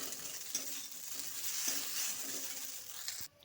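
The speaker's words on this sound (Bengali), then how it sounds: "ম্যাগি মশলাটা দিয়ে ভালোভাবে এরকম মিক্স করে নিচ্ছি, যাতে প্রত্যেক ম্যাগির মধ্যে লেগে যায়।" Maggi noodles stir-fried with Maggi masala in a pan, giving a steady close sizzle with light scraping strokes of the stirring utensil throughout, alone and without talk.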